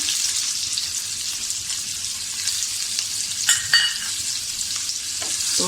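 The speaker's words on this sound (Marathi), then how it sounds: "एक मोठं कांदो बारीक चिरून घेतलंय, तेवढं आपल्याकडे फोडणीत घालूचा" Finely chopped onion fries in hot oil tempering for a village chicken curry, a steady close hiss of sizzling with a few soft stirring scrapes and clinks near the middle.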